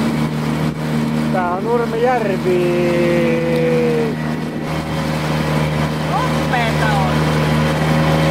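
A motor engine runs steadily throughout with a constant low hum, while people talk over it and a few higher tonal sweeps come and go.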